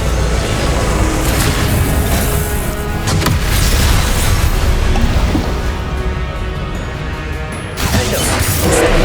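The Confringo explosive spell cast in Hogwarts Legacy during Percival Rackham's First Trial: loud, heavy booms and crashing impacts rolling one into the next amid continuous combat noise.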